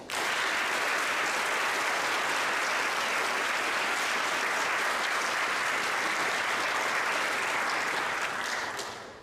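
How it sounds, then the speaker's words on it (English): Parents, friends and guests at a high school JROTC awards ceremony in Lawton, Oklahoma, applaud in a loud, dense, unbroken round that lasts the whole stretch and only thins slightly at the very end. "Let's give them a round of applause."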